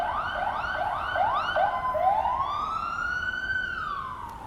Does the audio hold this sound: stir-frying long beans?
no